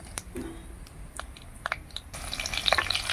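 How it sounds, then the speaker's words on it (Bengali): Green chilies and panch phoron hitting hot mustard oil in a kadai, a soft crackle that swells into a brighter, louder sizzle toward the end. "কড়াইয়ে দিয়ে দিলাম সর্ষের তেল তেল গরম হয়ে গেল তেলের উপরে দু চারটে পাঁচফোড়ন দিয়ে দিলাম দিয়ে দিচ্ছি কাঁচা লঙ্কা"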